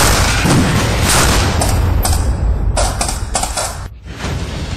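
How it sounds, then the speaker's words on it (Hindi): Heavy gunfire in a commando operation against gunmen holding hostages, a loud, dense and continuous roar of shots and booms with no break for nearly five seconds. "जिसके बाद शुरू हो जाती है जबरदस्त फायरिंग।"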